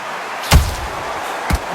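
Two sharp, heavy punch impacts in a boxing match between Rocky Marciano and Joe Frazier land about a second apart, each a loud, punchy thud that dies away quickly.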